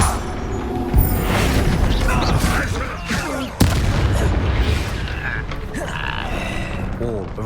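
Confringo blasting spells burst in the Hogwarts Legacy video game, loud booming impacts and a sharp crack amid ongoing combat effects, with a character's voice shouting over the chaotic mix.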